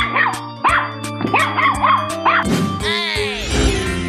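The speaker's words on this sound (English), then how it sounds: "Dog." Cartoon dog barking in a children's animal game, a run of bright yips and barks in quick bursts over a steady musical backing, close and loud, with no talk over it.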